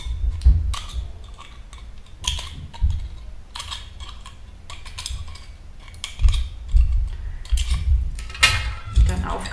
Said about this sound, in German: Die Teelichthüllen werden am Rand eingeschnitten.